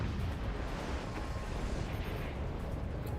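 Howitzers firing point blank in the strategy game Forts produce a continuous heavy, rumbling barrage of booms and blasts, dense and fairly distant-sounding without distinct separate shots.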